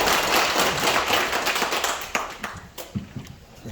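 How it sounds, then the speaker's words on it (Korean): Audience clapping to welcome a lecturer at a farming talk: a dense burst of applause that thins into scattered individual claps and fades out toward the end, close and without speech. "하여간 큰 박수로 환영해 주십시오."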